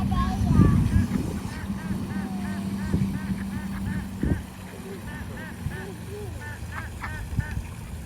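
Ducks being fed oatmeal at a pond call out in a run of repeated honking quacks, moderately distant, with a louder burst of nearby voices and rustling at the start and people talking faintly under the calls.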